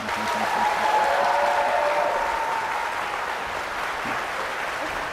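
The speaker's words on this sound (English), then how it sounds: "Audience, you can applaud now if you'd like." Steady, full applause from a studio audience after the 2018 Ohio gubernatorial debate in Cleveland, a dense, even roar of clapping that holds without pause.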